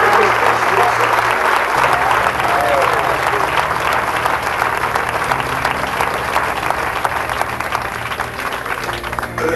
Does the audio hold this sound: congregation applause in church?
yes